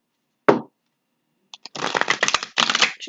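Tarot cards shuffled by hand, a single sharp riffle snap followed after a pause by two longer flurries of crisp, papery shuffling, close and alone.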